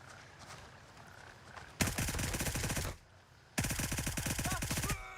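Hipfire magazine dump in Gray Zone Warfare, two long loud bursts of rapid automatic gunfire separated by a brief pause.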